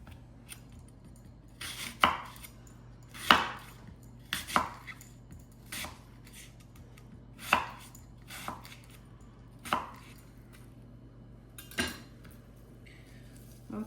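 Apples being sliced with a knife on a board, about eight distinct crisp cuts spaced irregularly a second or two apart, close and fairly clean with no talk.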